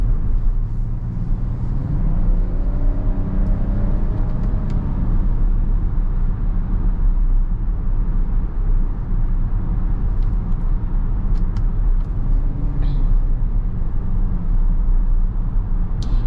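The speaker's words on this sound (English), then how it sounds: "Put it in sport. Just give it a full throttle here." A 2024 Kia Carnival SX in sport mode accelerates at full throttle, heard from inside the cabin as a loud, steady engine drone and road rumble, with the pitch rising over the first few seconds.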